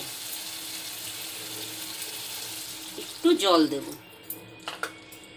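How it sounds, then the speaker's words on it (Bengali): Water is poured into a finished spice paste for a sour-spicy mango and rohu fish curry, a short splashing pour with sizzling that rises briefly amid low kitchen background noise, followed by a few faint clinks. "এবার আমি এর মধ্যে একটু জল দেব"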